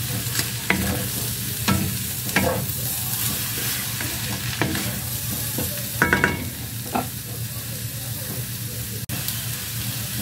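Boiled beef innards sauté in a pan, giving a steady sizzle along with scraping and clacking stirring sounds throughout.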